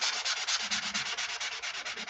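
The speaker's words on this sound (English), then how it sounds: "Does sanding do anything" Hand sanding across painted lettering on a wooden board, a quick rhythmic series of close, rasping back-and-forth strokes, about eight per second, heard alone.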